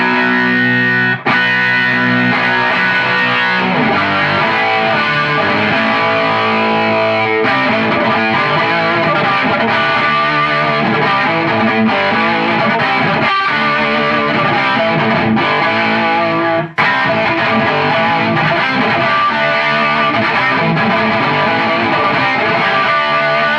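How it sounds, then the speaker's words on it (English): Crunchy, heavily distorted electric guitar with an overdrive pedal stacked into a distortion pedal, playing continuously and loudly for the whole stretch with only brief breaks in the sustained chords. "I've got the overdrive running through distortion like the phenom. That's probably my crunchiest sound."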